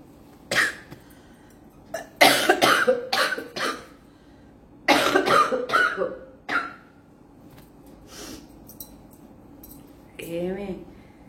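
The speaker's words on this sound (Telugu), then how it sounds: "బాగా దగ్గు తగ్గట్లేదు అసలు" A persistent cough from someone with a cold, in several loud bursts of repeated hacking coughs separated by pauses, close to the microphone, with faint clinks of dishes and a short voiced sound near the end.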